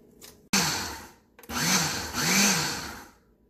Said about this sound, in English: I'm going to blend it in the blender